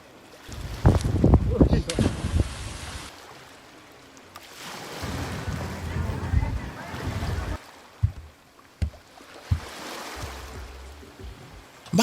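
Motor yachts cruising at sea off Marsa Matrouh, with water rushing and splashing against the hull, steady engine and wind rumble, and scattered sharp knocks and thuds, while people talk intermittently nearby.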